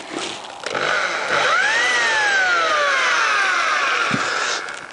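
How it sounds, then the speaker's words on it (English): A power drill bores into a motorcycle seat latch part for a Honda CBR1000F, whining up in pitch as it spins and bites, then holding a loud, steady grinding drone for several seconds before winding down. "Try and make a mark there with our drill."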